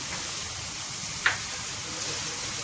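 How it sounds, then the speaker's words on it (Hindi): Ginger garlic paste and spices fry gently in a kadai for kundru sabzi, a soft steady sizzle close by with one brief sharp crackle midway and no talk. "अब इन मसालों को हम ऐसे हल्का सा भून लेंगे।"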